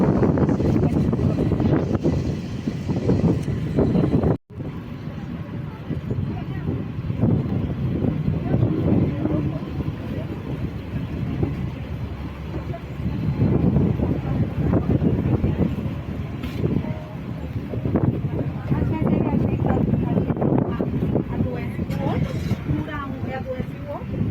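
Steady wind buffeting the microphone over the low rumble of a ferry's engine, with a sudden brief dropout partway through.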